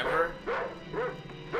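A dog barks four times in a steady, spaced rhythm, each short, sharp yip-like bark ringing out at moderate distance from a film soundtrack.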